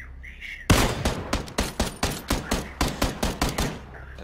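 A rapid string of roughly a dozen evenly spaced gunshots from PlayerUnknown's Battlegrounds cracks out, loud and close after a quiet start, each shot with a short ringing tail.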